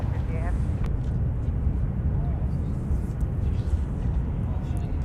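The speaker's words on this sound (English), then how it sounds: "you could always count on the GE CF680s to make some noise" A Delta heavy jet with GE CF6-80 engines departing Minneapolis–St. Paul airport, a steady, loud broadband engine roar that holds throughout with no break.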